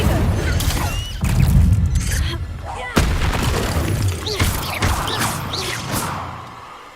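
Spell effects from Hogwarts Legacy, including the Incendio fire spell, burst out as loud booms, crackling blasts and whooshes in a dense, continuous barrage of combat sounds.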